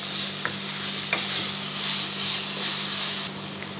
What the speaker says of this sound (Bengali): এবার এটা আমি ভালো করে নাড়ব।